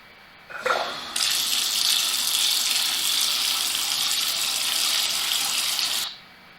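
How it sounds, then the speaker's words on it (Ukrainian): Water runs from a tap in a steady, hissing stream, starting with a brief splash, then flowing evenly for several seconds before shutting off abruptly. "вода з крану"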